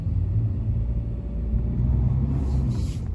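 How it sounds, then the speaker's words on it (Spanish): A car spinning its engine while stuck in New York snow makes a deep continuous rumbling drone that holds steady and loud throughout, close by, with no voices over it. "Eso es el carro que está sonando así, acelerando. No puede salir de la nieve"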